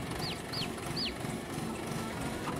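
Chicks in a farming video game, a few quick chirps near the start over a steady low background hum, faint and brief.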